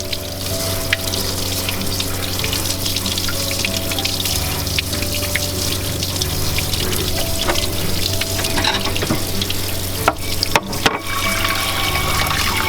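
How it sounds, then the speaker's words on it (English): Cold tap water runs steadily over two boiled eggs in a kitchen, a continuous close splashing and hissing stream with a brief interruption near the end. "So then you just put them under cold water."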